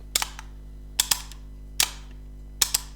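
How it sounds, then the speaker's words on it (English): Kalashnikov rifle selector switch flipped repeatedly, giving sharp, loud metallic clicks that arrive in quick pairs and singles with short quiet gaps between them. "People don't follow their discipline correctly, and they flip through their selector switch."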